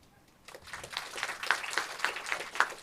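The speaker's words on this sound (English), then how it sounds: "I want all of you to clap for your parents." After a short quiet start, an audience at a leadership summit breaks into moderate, fairly sparse clapping. Individual hand claps stand out within a modest round of applause that grows slightly.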